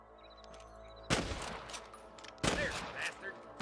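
Gunfire from the Western video game Red Dead Redemption: two sharp, loud shots about a second and a half apart, each with a lingering echoing tail, over a quiet background with faint game ambience.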